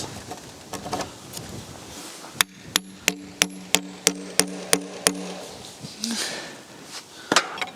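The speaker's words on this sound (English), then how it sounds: "if you hear me knocking, that is just because I need to get the head of this bolt into the wood." A hammer knocks a square-shouldered bolt head into wood on a large barn door build, nine sharp ringing blows in a steady rhythm, close and loud, with outdoor birdsong around.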